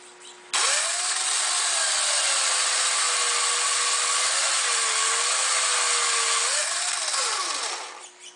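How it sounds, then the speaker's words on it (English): A powered strop drum whines steadily, its pitch wavering slightly, while a woodcarving V tool held in a fixture is polished against it, then the motor spins down at the end. "You can see we're polishing it right up."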